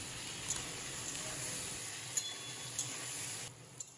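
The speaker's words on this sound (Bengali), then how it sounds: "এখন কেটে রাখা কচুগুলো সব কড়াইয়ের মধ্যে দিয়ে লবণ আর হলুদ দিয়ে আমি ভালো" Taro pieces frying with salt and turmeric in a hot wok, a soft steady sizzle close by with occasional light clinks of a spatula against the pan.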